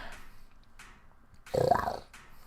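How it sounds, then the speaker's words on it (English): A cat's low purr swells briefly and close by for about half a second in the middle, with quiet rumbling before and after and no voices. "Listen to that baby purr."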